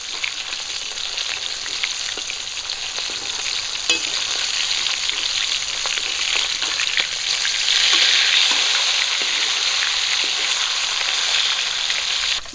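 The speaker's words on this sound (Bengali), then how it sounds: "মাছগুলো 1 পিঠ করে ভাজা হয়ে গেছে, উল্টে দেবো।" Pieces of silver carp fry in a pan of hot oil with a dense, continuous sizzle that swells louder partway through as the fish is turned over, with no talking.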